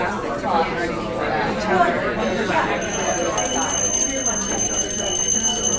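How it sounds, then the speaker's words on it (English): An alarm clock rings with a persistent high-pitched bell tone that starts a few seconds in and continues under steady indoor chatter and talking. "Here's your alarm."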